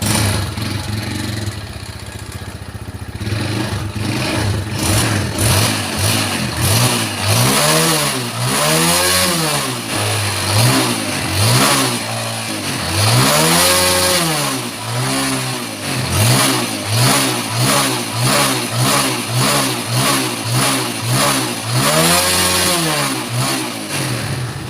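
A Honda Jupiter Z1 motorcycle engine starts and revs up and down again and again, close and loud, settling into a quick run of short, repeated throttle blips between brief idles.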